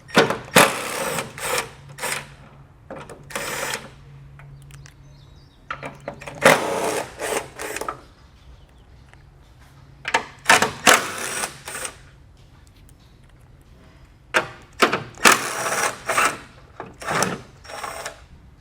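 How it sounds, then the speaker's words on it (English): A socket wrench with a 10mm socket removes fascia support bolts on a 2015 BMW X5, making several short bursts of rapid ratcheting separated by quiet pauses. "we're going to use a 10mm socket to remove these"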